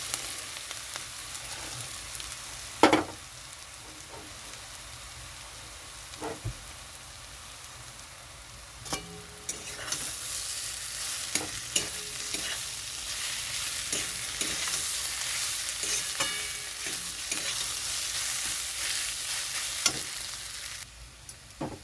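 Continuous sizzling of garlic and taro frying in a pan, louder after a few utensil knocks midway, with scraping stirs throughout and no talking.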